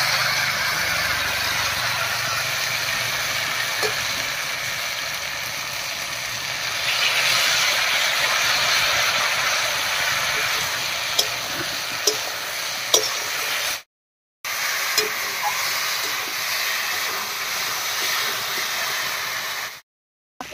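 Ground spice paste stirred into kochur loti (taro stolons) frying in a pan, giving a steady close sizzle with soft scraping and squishing, broken by two brief silent gaps.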